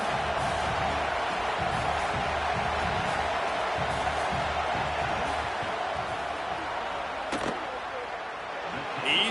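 Stadium crowd roaring during a 47-yard field goal attempt at a football game, a sustained dense wash of noise with a sharp thud near the end, under a broadcaster's commentary.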